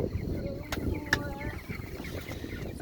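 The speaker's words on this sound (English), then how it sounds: "So these are our first meat chickens." Young meat chickens raised on grass in a chicken tractor cluck and chirp softly nearby, with a few brief clicks and knocks in the background.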